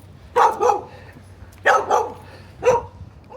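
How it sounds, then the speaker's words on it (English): A dog barks three times near Ban Krut, Thailand, in short loud bursts spaced about a second apart, the first a quick double bark, over faint background noise. "Oh, dog's barking."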